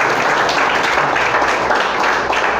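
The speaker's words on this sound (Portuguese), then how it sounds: "Quem crê pode aplaudir, pode glorificar." A church congregation claps during a Portuguese-language sermon, producing a loud, continuous wash of applause that holds steady throughout.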